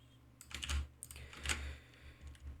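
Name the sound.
typing on a computer keyboard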